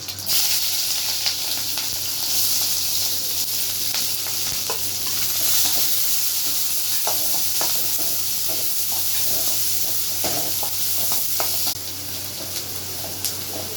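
Cumin and onion fry in hot oil for a cabbage poriyal, a continuous bright sizzle with scattered scrapes and clinks as they are stirred, steady and close without talk.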